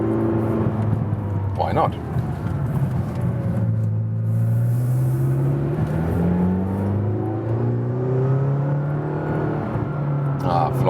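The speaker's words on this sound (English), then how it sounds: "And now a little agile driving up the hill." A McLaren GT supercar climbs a hill, its engine note rising and falling through gear changes in a smooth, sustained drone heard from inside the cabin, with someone talking over it.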